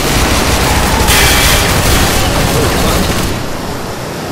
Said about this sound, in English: it's like the barrage of gunfire